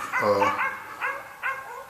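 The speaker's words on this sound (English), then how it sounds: "Excuse the idiot dogs next door" Dogs next door bark near a workshop, one long bark followed by two shorter sharp barks with brief pauses between, clear and fairly close.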